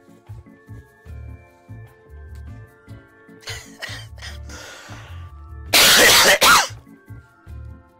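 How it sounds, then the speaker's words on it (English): A person coughs twice in quick, loud, close bursts, a sharp double cough over steady background video-game music during a HuniePop play session. "Cough."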